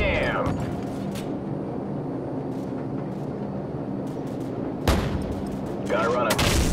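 Gunfire on enemy personnel in the video game Call of Duty 4: a steady, dense roar of sustained firing, with a sharp blast near the five-second mark and heavier bursts toward the end.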